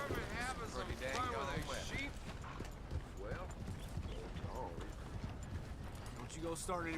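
Horse hooves clip-clop steadily in Red Dead Redemption 2 gameplay, a repeating rhythmic beat under near-constant talk from a player and in-game character voices.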